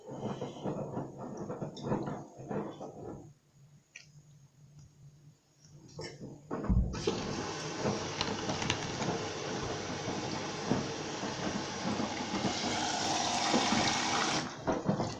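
A home washing machine runs a load of dark laundry with fabric softener: water rushes and churns, quieter and intermittent at first, then a loud, steady gushing fill that lasts to the end.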